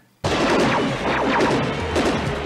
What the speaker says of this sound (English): That's gunfire. Those are actual gunfire sounds.